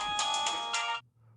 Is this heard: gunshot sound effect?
no